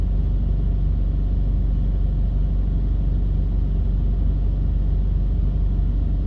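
Truck engine droning steadily inside the cab, a loud, even low rumble that continues without change and carries no voices.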